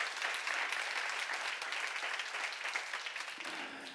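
A church congregation claps during a sermon seminar, a steady, fairly distant wash of many hands that carries on evenly and fades slightly toward the end.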